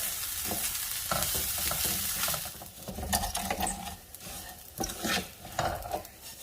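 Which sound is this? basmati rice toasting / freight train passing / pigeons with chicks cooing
basmati rice toasting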